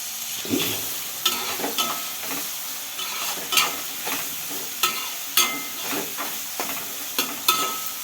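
Ridge gourd curry frying in a pan as a spoon stirs it, with steady sizzling under repeated scraping strokes of the spoon every half second or so, close and fairly clear, no talking.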